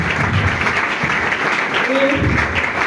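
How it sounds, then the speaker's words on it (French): A church congregation applauds in a dense, continuous patter of many hands filling the room, with voices mixed in under the clapping. "Acclame Jésus."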